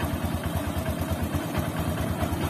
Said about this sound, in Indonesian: Oke, ini udah hidup. Ini hidup teman-teman. Jadi halus mesinnya